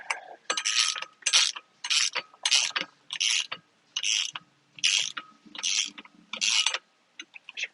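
A hand ratchet clicks in about ten quick, evenly spaced bursts, close and sharp, as bolts on the flex disc of a BMW E36 M3 are snugged up, with short gaps between strokes.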